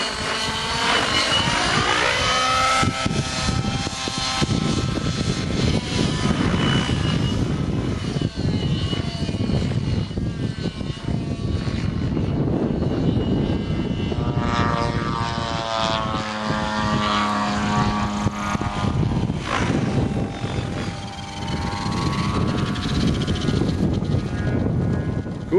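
A radio-controlled airplane's engine runs with a GP-Exhaust tuned pipe, a loud continuous buzzing whine that shifts in pitch as the plane passes and throttles, close and powerful throughout with no talking.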